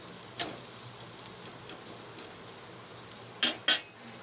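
Egg milk toast flipped in a frying pan, a faint low sizzle running underneath, a soft tap early on and two sharp metallic clanks of the spatula against the pan near the end.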